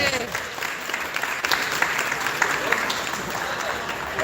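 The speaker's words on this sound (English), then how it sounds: "Give him a round of applause." Audience applause rings out at a fundraiser auction right after an item is sold, a steady dense clapping from a crowd that holds at one level throughout, with voices faintly mixed in.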